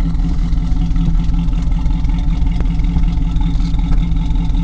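A 1971 Trans Am's engine rumbles at a steady idle through its original exhaust, loud, throaty and pulsing close by. No voices.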